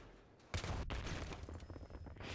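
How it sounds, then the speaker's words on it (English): Gunfire in Battlefield 3 on the Seine Crossing map, fired from a bipod-mounted M240B for suppressive fire: a dense, continuous rattle of shots starts abruptly after a brief quiet moment and holds steady at a moderate level. "with this bipoded M240B, I'm able to lay down some nice suppressive fire"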